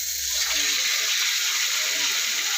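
Fish frying in oil in a pan, a steady dense sizzle with a broad crackling hiss that continues evenly throughout, with a brief low rumble at the start.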